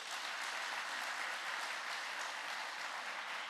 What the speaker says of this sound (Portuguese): Uma salva de palmas, amém?